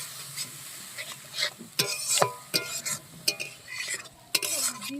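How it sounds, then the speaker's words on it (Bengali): Spice paste for a desi chicken curry being stir-fried in a pan, a spatula scraping and clattering in irregular strokes over a soft sizzle, close up with no talk. "এবার আমি মশলাটাকে ভালো করে কষিয়ে নেব।"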